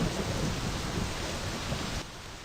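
Thunderstorm with rain in the video game My Summer Car: a dense, steady hiss of rainfall with a low thunder rumble, alone and fairly loud, easing slightly near the end.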